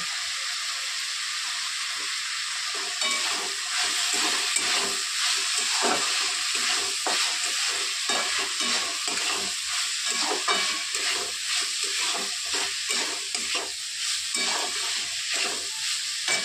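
Diced potatoes sautéing and being stirred in a hot pan with coriander powder, turmeric and asafoetida, giving a steady close sizzle broken by repeated scraping stirs throughout, with no talking.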